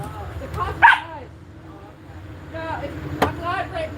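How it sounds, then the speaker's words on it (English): A dog barks and yips in short bursts close by, mixed with a person talking over it, with some whimpering tones between the louder barks. "Sorry about my dog."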